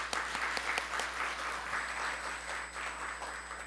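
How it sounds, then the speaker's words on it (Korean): Audience applause at the launch ceremony of a small and medium venture finance committee, a steady, dense wash of clapping from a crowd lasting several seconds with no voices over it. "박수 한번 치시죠"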